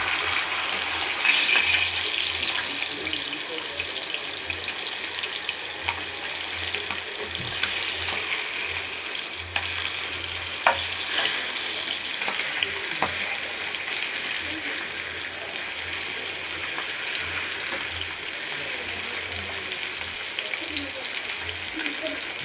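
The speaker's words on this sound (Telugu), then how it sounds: "ఇలానే అటువైపు కూడా 1 నిమిషం పాటు ఫిష్ని వేయించుకుందాం." Fish coated in masala fries in hot oil in a pan over a low flame, giving a steady close sizzle and crackle with occasional pops, while someone talks over it.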